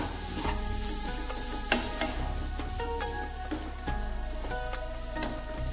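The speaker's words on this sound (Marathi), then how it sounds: "आता हे सर्व" Cauliflower paratha filling being stirred and mixed together by hand with salt and coriander, giving soft steady scraping and stirring noises with occasional sharper clicks against the bowl, close and continuous.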